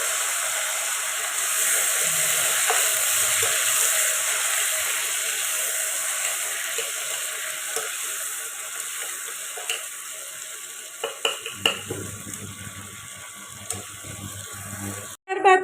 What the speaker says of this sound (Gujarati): જે આપણો ગવાર ધોઈને લઈ લીધો છે તે એડ કરીને વઘારી દઈશું